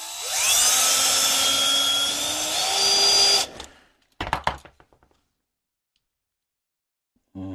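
An electric drill whines loudly and steadily for about three seconds while boring out a rivet on a Hot Wheels Porsche P-911 toy car, then stops; a few sharp knocks and clicks follow before a brief burst of drilling resumes at the end.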